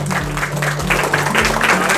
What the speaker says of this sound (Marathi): टाळ्या वाजवा सगळेजण, टाळ्या कंटिन्यू ठेवा.